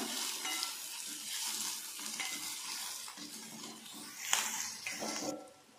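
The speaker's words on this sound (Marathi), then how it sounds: "हे छान तेलामध्ये परतून घ्यायचं लाल होईपर्यंत." Finely chopped green chillies sizzle and fry in hot oil, a soft crackling hiss broken by light stirring and scraping clinks from the pan, quiet and close with no talking.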